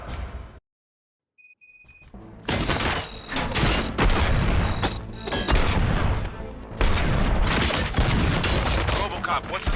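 Gunfire in RoboCop: Rogue City, with dense crashing bursts and booms that erupt after a moment of silence and keep pounding loudly throughout.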